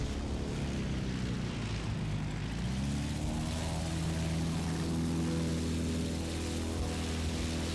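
An enemy propeller plane in the Battlefield 1943 video game drones past with a loud, continuous engine hum whose pitch slowly shifts, set against steady battlefield rumble and no talking.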